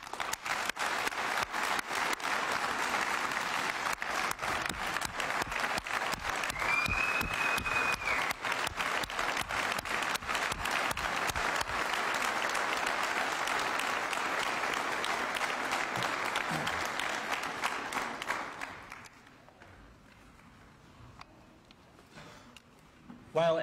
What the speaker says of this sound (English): they all deserve our applause